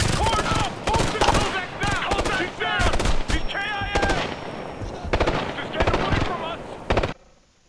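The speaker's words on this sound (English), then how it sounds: "Shots." Automatic gunfire in the tactical shooter Ghost Recon Future Soldier rattles in rapid bursts across most of the stretch, mixed with radio-style squad chatter and voices talking over the shooting, then cuts off near the end.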